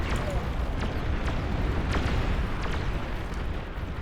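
Dense battle explosions from the real-time strategy game Beyond All Reason, a continuous loud rumbling wash with scattered sharp bursts and booms layered throughout a large multiplayer fight.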